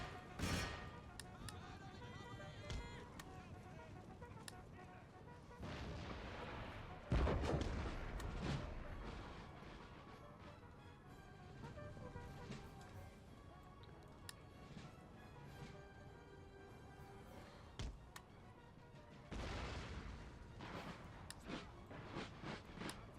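Cannon artillery in the video game Empire Total War fires several deep booms at irregular intervals, a heavy blast standing out near the middle, over a continuous din of battle.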